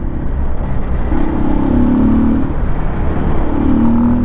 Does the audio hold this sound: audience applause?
no